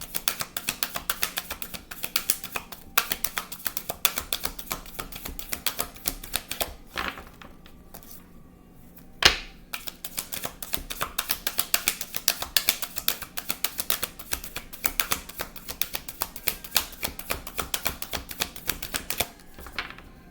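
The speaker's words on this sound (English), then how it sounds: "I'm just putting them back in the deck and we're going to keep shuffling." Fast flicking riffles of tarot cards being shuffled, in repeated bursts with a brief pause and a single sharp tap midway, close by.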